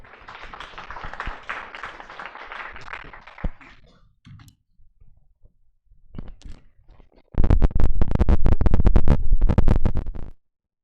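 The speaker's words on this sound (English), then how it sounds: "Round of applause, guys" Audience applause at a data talk event, a loud burst of clapping from a crowd that swells suddenly and runs for about three seconds, following quieter clicks and a soft rustling murmur.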